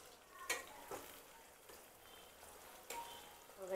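Corn kernels fry in hot oil for a crispy corn snack, giving a soft, steady sizzle broken by a few sharp pops and spatters; fairly quiet and without talk.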